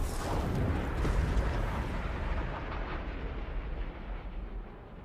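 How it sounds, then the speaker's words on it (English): A passenger jet crash explosion from an animated series, heard as a loud, sustained roaring blast with deep rumble and crackling debris that slowly fades over about five seconds. "That's a plane crash."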